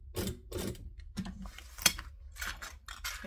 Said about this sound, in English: And I'm stitching 1/8 of an inch from the edge.